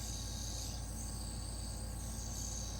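A spinning tungsten and titanium inertia scepter on an Acer Racing bearing gives a steady, close whirring hum with a bright high buzz that holds continuously without pause, and no voices are present.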